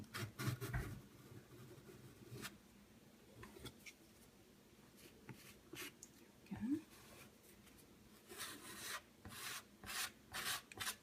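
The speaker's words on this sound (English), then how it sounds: "wipe off the extra with my spatula" Soft scraping and rubbing of a spatula wiping excess textured filler paste off wood, close and quiet, in short intermittent strokes with faint background noise.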